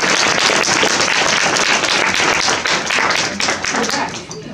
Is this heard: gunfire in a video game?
no